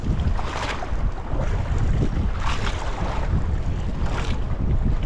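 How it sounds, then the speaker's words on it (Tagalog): Big ocean waves rock a small fishing boat at sea. A continuous loud rush of water and wind noise swells and surges in repeated waves, with no talking. "Uy, grabing alon mga boss."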